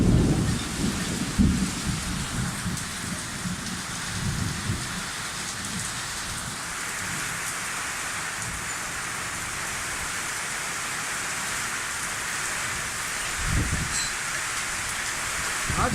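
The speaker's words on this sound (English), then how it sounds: "We haven't had rain like this in 6 months. Not to this extreme." Heavy monsoon downpour in Thailand, a dense continuous roar of rain on surfaces with low thunder rumbles near the start and again later, steady and enveloping with no speech.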